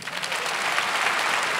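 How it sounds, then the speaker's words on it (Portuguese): Audience applause at a church gathering, a steady dense clapping from a large crowd filling the short moment without any talk over it. "Agora pode aplaudir."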